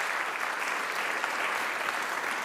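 Dense, even applause from a lecture audience after a talk on music and the mind, a continuous wash of many hands clapping at a steady, fairly soft level.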